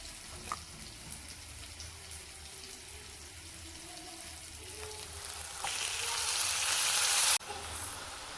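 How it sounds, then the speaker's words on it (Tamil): Boiled cabbage dropped into a pan sizzles quietly at first, the frying hiss swelling louder and brighter partway through before dropping back, with faint clinks and stirring underneath. "அவிச்சு வச்சுருக்க முட்டைக்கோசை நம்ம ஃபேனில் சேர்த்துக்கலாம்"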